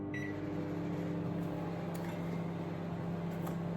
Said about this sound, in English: if you've got an 800 watt microwave, what I do is I put it on for 2 minutes.